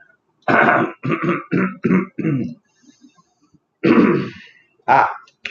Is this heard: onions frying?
no